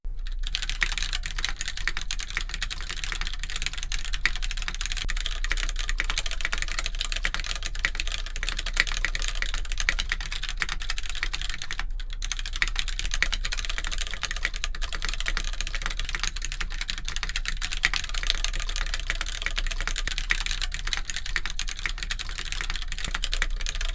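Keys clatter in continuous, fast typing on a KBD8X MKII keyboard with a Gummyworm mod and polycarbonate plate, a steady dense stream of close, crisp clicks with no voices.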